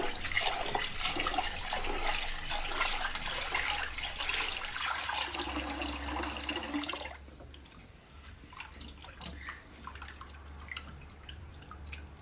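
Black glutinous rice is rinsed in water ahead of steaming, giving a steady close splashing and pouring wash that stops abruptly partway, leaving faint drips and small water sounds.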